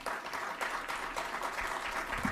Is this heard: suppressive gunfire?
no